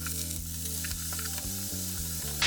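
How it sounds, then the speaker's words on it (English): Garlic and vegetables sauté in oil in a home kitchen while chicken soup is being made, giving a steady, close sizzling hiss over a low tonal hum, with a brief louder burst at the very end. "Just gonna let that saute for a while."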